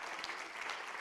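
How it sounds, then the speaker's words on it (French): A brief burst of applause at a media awards ceremony, steady clapping from a crowd, fairly faint and distant. "On peut les applaudir, bravo."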